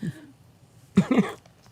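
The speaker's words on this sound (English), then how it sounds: "Everybody's coughing." Several people cough and clear their throats in a room, a short rough burst followed by a louder cluster of coughs, close and brief.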